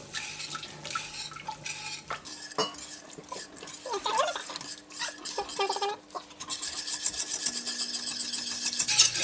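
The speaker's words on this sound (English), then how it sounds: "Keep stirring. Keep stirring." A spoon scrapes and knocks steadily around a pot as milk is worked into a macaroni pie mixture, with rhythmic metallic rasping that grows busier and louder toward the end.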